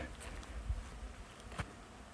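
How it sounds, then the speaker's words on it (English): Wild bees and wasps buzz around a nest outdoors, a faint, continuous hum heard from nearby with a couple of brief soft knocks. "See if the microphone captures the buzzing of the wasp, of the bees."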